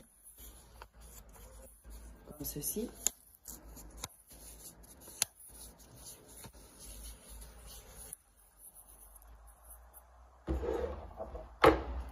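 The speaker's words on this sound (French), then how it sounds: "on va donc enrouler le papier ensuite" Paper being rolled up by hand, soft crinkling, rubbing and rustling close by in irregular bursts, with louder crackles near the end and a few quiet words spoken.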